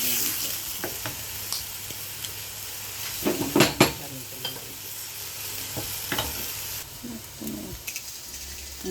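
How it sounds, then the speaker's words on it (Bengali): Dried red chillies fry in hot oil with a steady low sizzle, broken by scraping stirs and a few clinks of a spoon against the pan, close by and without talk. "এখন কয়টা শুকনা মরিচ ভাজিছি তেলও ভাজিয়া লইছি"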